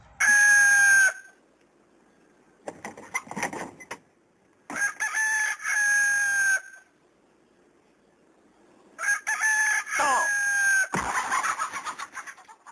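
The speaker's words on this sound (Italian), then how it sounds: "Ma ha svegliato il gallo?" A rooster crows loudly several times at dawn in a garden, each long call separated by brief pauses, with fainter clucking and rustling between the crows.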